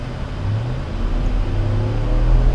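A 2020 Ram 1500 Rebel pickup with a 5.7 liter V8 and 275 all-terrain tires accelerates, its engine a loud, steady low drone that climbs in pitch as the truck gains speed, heard from inside the cab.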